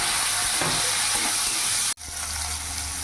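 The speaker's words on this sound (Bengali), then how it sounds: "পেঁয়াজটা একটু ভাজা ভাজা করে নিয়েছি" Onion and tomato sizzle loudly in a pan, a constant crackling hiss broken by one abrupt cut before the frying carries on.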